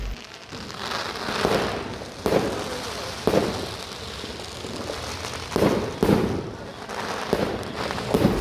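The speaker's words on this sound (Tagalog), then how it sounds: "Sayang po kasi yung fireworks display kaya panoorin na rin natin." Fireworks boom and crackle in irregular bursts, each pop followed by a fizzing spray, with a steady hiss of crowd noise between.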